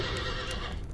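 A horse gives a short whinny with a few hoof sounds, one second long, close and moderately loud, with no talking.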